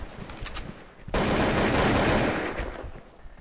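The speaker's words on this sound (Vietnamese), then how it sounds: "Đang trên tay review khẩu gọi là AK-47 Black Beat." An AK-47 Black Beast rifle fires in a mobile shooter game, a loud, dense burst of automatic gunfire lasting about two seconds after a few faint earlier shots, close and unaccompanied.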